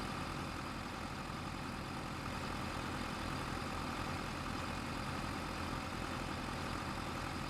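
Steady low rumble of a Ford tractor's engine idling in Farming Simulator 25, a constant, moderately loud drone with no speech, heard from inside the cab.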